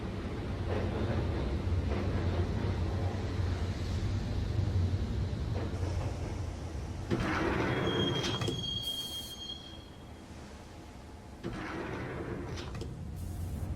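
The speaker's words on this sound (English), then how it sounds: "the train doors had already shut behind me, and I was in for the ride" Subway train ride in the Max Payne video game: a loud, steady rumble of rail wheels and carriages, with a sharp high metallic wheel squeal rising midway, then the clatter continuing alone without voices.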